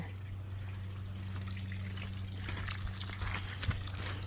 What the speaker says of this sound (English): we'll let that drain out the rest of the way